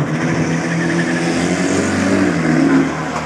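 A Mopar pickup truck's engine holds a loud, steady high rev at a drag strip, a sustained roar with no break across the stretch.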